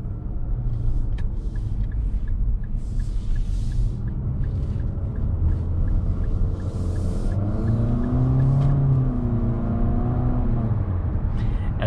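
A 2021 Infiniti QX50 SUV with a CVT transmission accelerates, its steady engine drone and road rumble filling the cabin loudly throughout, with a rising tone swelling near the end.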